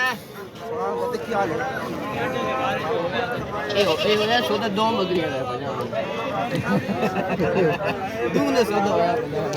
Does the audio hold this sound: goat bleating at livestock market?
yes